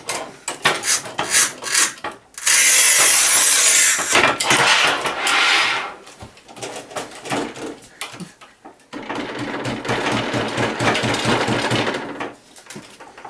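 A tile cutter cuts through tile in two long, loud passes of harsh grinding and scraping, separated by short gaps with clunks and knocks from handling the tool.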